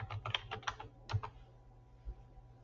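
Quick bursts of keystrokes on a computer keyboard, a rapid cluster of taps followed by a few isolated presses, close and clear in a quiet room.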